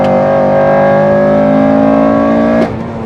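A Honda K20 VTEC engine in a race car on the Nordschleife holds a loud, sustained high-rpm wail with steady harmonics, then dips sharply near the end as the revs fall.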